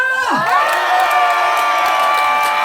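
Loud cheering and high children's shouts swell from a crowd at a Korean janggu drum contest, a dense continuous roar with whoops and clapping mixed in, close and energetic throughout.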